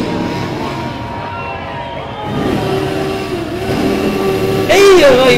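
A motorcycle engine revs at the Torres Vedras carnival during the inauguration of the carnival monument, a rough mid-range engine note building in loudness over crowd noise, with a sharp rising rev near the end as people talk.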